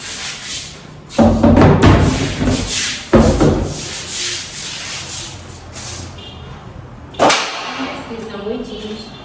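Surfaces being scrubbed during cleaning of a new house in Ibadan, Nigeria: loud, close rubbing strokes in several bursts separated by pauses, then quieter scraping toward the end.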